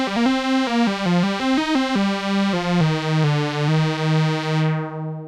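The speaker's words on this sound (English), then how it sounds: "It's another synth lead." Arturia MicroFreak synthesizer playing its Soft Vintage lead preset on the virtual analog engine, a monophonic melody of clear harmonic notes stepping downward and ending on a long held tone that fades out.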